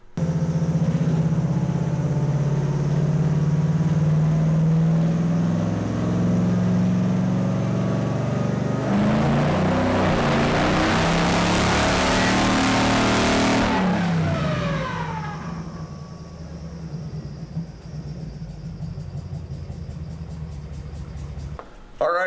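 A stock 5.3 V8 swapped into a Mazda revs in fourth gear on a hub dyno, climbing steadily to a loud, roaring full-throttle peak before abruptly backing off to a lower, fading drone.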